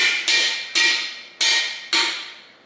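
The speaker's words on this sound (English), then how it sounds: "Bigger hammer." A hammer drives a spike with about five sharp, ringing metallic blows, each ringing out before the next, at an uneven pace, loud and close with no voices.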